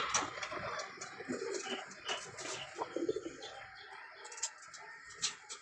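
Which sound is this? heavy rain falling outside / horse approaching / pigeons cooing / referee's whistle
pigeons cooing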